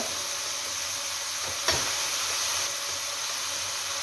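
Ground coriander, chili and cumin sizzle in hot oil in a pan, frying for a fish and potato curry; a steady close hiss carries throughout, with one brief clatter or stir near the middle and no talking.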